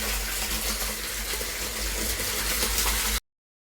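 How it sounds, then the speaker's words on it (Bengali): Leftover water from a freshly cleaned drum, about ten years old, drains out through an outlet with a steady, close rushing flow that cuts off abruptly near the end; no one speaks. "এবার নিচে যেইটুকুনি জল আছে এবার ওই নালিটা দিয়ে বেরিয়ে যাবে"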